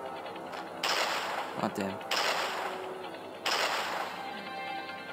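Video game gunfire, three bursts of loud crackling shots separated by short pauses, with a brief mechanical clack between them and a player's short exclamation.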